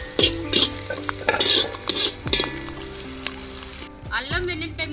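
A spoon stirs a chicken biryani mixture in a kadai over a wood-fired stove, giving repeated scraping strokes with a faint sizzle underneath, while a voice talks over it.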